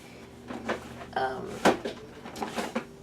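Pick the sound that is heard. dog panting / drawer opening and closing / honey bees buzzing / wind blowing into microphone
drawer opening and closing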